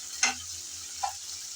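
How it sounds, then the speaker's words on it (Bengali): Ginger-garlic paste frying in a pan for a small fish curry: a quiet, constant hiss of oil with two brief stirring scrapes, one early and one midway. "তারপর দিলাম আদা বাটা আদা রসুন সামান্য নেড়ে চেড়ে ভেজে নেব যাতে কাঁচা গন্ধটা চলে যায়"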